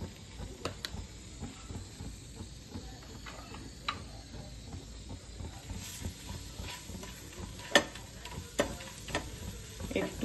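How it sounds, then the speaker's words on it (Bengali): Flour is fried in butter with oregano in a pan while being stirred, giving a faint, steady sizzle with soft scraping and occasional light clicks of the spoon. "একটু ভাজা ভাজা করে নিচ্ছি"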